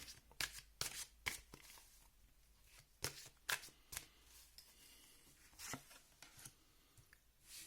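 Tarot cards being shuffled and drawn, quiet close riffles and soft flicks in irregular bursts with pauses between.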